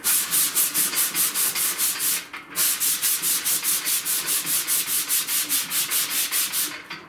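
Rusty metal on a car's lower fender is hand-sanded with 80 grit sandpaper in quick, even back-and-forth strokes, a rasping close-up scrape pulsing about four times a second with one short pause; no voices.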